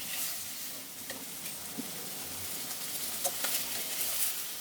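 Small fish sizzle steadily in mustard oil in a hot wok, a dense close hiss with faint crackles and occasional stirring clicks, no voices.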